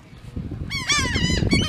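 A seagull on the Ocean City, Maryland boardwalk gives a burst of loud, harsh, repeated calls close by over a low background murmur.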